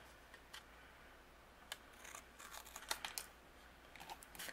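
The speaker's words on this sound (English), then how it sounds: "I'm going to go ahead and use my scissors and we're going to create a fishtail banner" Scissors snip through paper to cut a fishtail banner edge during cardmaking, giving quiet, close crisp cuts and small rustles, with one early snip and then a cluster of clicks toward the end.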